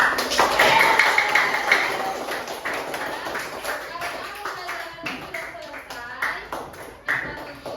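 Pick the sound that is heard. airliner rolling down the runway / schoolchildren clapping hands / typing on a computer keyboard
schoolchildren clapping hands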